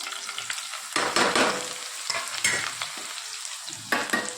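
Spices and masala for undhiyu are tipped into hot oil with asafoetida, coriander-cumin, salt, green chilies and garlic, giving a steady close sizzle with bursts of scraping and stirring, no voices.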